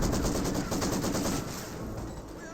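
Maxim machine gun in Company of Heroes, a continuous rapid rattle of sustained automatic fire that fades slightly toward the end.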